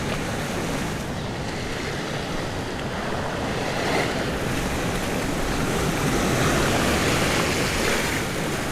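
Sea waves surge and wash steadily around a fishing boat offshore, broadband and continuous with wind buffeting the microphone, swelling slightly louder toward the end, with no talk.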